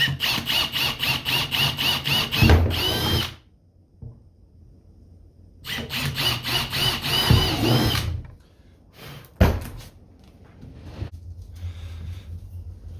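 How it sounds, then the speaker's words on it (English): A power drill drills holes, running in two long rhythmic pulsing bursts, close and loud, separated by a pause, followed by a short whir and quieter rumbling. "Now I'm just gonna drill some holes in there."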